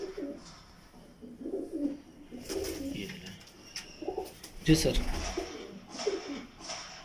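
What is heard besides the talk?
pigeons cooing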